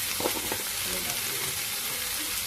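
Beef black pepper stir fry hisses steadily in a hot pan, a dense continuous sizzle with a few stirring scrapes near the start, close and fairly loud throughout.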